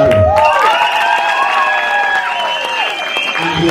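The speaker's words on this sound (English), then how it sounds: "let us clap for Madam Aro" A crowd claps and cheers at an MP certificate ceremony in Lang'ata, with whoops and raised voices riding over steady, loud applause that runs throughout.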